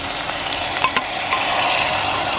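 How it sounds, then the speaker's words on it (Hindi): Okra with unwhisked yogurt being stirred in a hot pan over high flame, a steady sizzle of frying under scraping stirs with a couple of sharper clinks, close and continuous, with no talk. "अब तेज़ फ्लेम करके इसको मिक्स करते हैं।"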